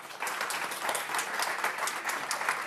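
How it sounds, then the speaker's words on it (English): After a panel session, an audience claps in sustained applause, with rapid overlapping hand claps heard at a moderate distance and no talking over them. "Can we go another round of applause, please?"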